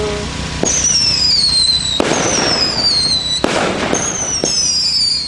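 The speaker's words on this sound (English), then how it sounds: "So, Empire, Planet X Fireworks." Empire, a 200 gram fireworks cake from Planet X Fireworks, fires loud shots with sharp bangs and bursts, and a rising whistle screams through the sky between the reports.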